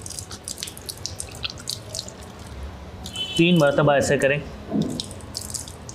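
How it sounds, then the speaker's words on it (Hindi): Water from a tap runs and splashes while someone draws it into the nose during wudu ablution, with a brief louder burst of gurgling and splashing partway through, all under a man's speech. "उसके बाद नाक में पानी चढ़ाना है, 3 मरतबा नाक में पानी चढ़ाना।"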